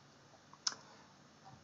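A single sharp computer mouse click made while working in music software, close and brief, set against a quiet room.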